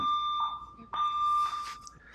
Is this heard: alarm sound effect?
yes